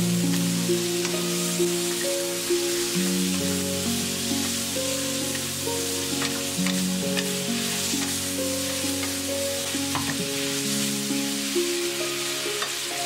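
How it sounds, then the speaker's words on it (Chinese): Chicken stir-frying in a wok with dark soy sauce and sugar, a steady close sizzle with scraping stirs throughout, over soft sustained background music and no talk. "翻炒上色。"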